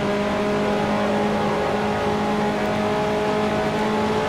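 A race car engine roars loud and close on track, a sustained steady drone through a gear shift at a turn's apex, with constant road and wind noise.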